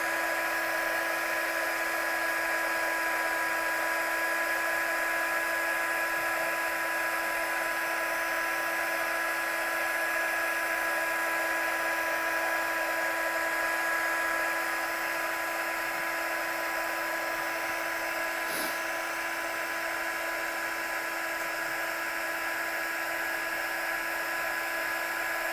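An embossing heat tool setting stamped embossing powder to a glossy white, a continuous high-pitched whirring blower hum that holds steady and close throughout.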